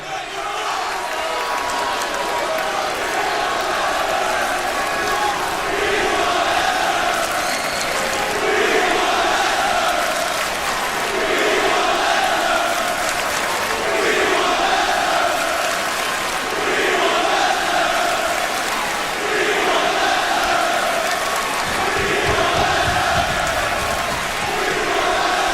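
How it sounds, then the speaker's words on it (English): A large wrestling crowd at Monday Night Raw cheers and chants in loud rhythmic waves, a dense roar of voices swelling and falling continuously throughout. "An always interesting crowd at Monday Night Raw."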